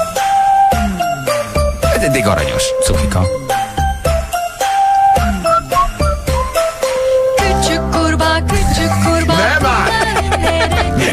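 A children's song plays on a Hungarian morning radio show, with bright tinkling melody and steady beat, then a fuller, denser section near the end, while hosts talk briefly over it.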